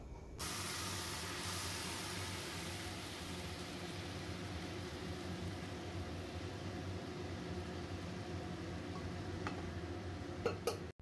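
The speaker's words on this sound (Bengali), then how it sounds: "এখন সেদ্ধ করা ডালটা আমি কড়ার মধ্যে ঢেলে দিচ্ছি।" Boiled lentils hit a hot tempering in a karai and set off a continuous broad hiss of sizzling and steam. It runs evenly for about ten seconds, then a couple of sharp clinks sound at the end.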